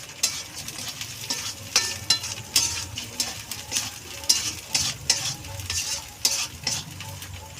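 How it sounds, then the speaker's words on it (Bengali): Spice paste for a mutton curry is stir-fried in a pan, with a continuous sizzle and repeated scraping strokes of a spatula, close and loud, with no voices. "এটা 5 মিনিট আমি কষে নেবো মশলাটাকে।"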